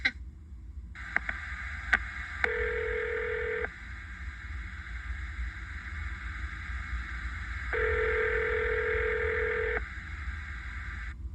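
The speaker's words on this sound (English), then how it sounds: "All right, Caleb, are you ready for us to make a phone call?" Telephone dialing before a call, heard as a few brief clicks, then a steady electronic tone that shifts pitch and holds for long stretches, fairly clear with no talk.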